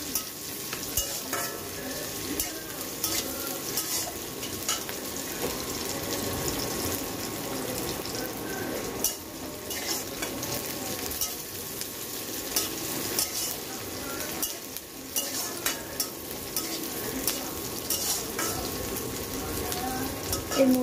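Onion fries in a pan with continuous crackling sizzle and repeated stirring scrapes, mixed with some running-water and kitchen clatter in the background.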